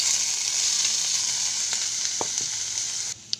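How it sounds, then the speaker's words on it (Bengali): Whole garam masala and chopped onion sizzling steadily in hot mustard oil in a kadai, a loud continuous hiss with a few soft stirring knocks, cut short at the end. "কড়াইতে সর্ষের তেল দেব। দেব গোটা গরম মশলা, দেব পেঁয়াজ কুচি,"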